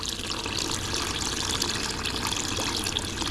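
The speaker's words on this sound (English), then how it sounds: "Now we'll go ahead and add our water." Water pours steadily into a cooking pot for a Cajun catfish stew, a continuous close gushing splash like a tap filling the pot, with no talking.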